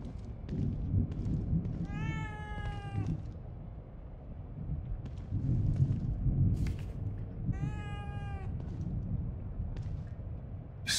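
A cat meows twice in The Evil Within 2 video game, two drawn-out, rising calls several seconds apart over a steady low ambient rumble, with no talking.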